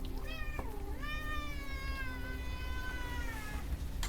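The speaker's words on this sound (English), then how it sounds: "everything's terrible when you're Despy the cat" A cat meows in the Unavowed video game, one long drawn-out, wavering cry that rises and holds before fading, clear and close against a quiet background hiss.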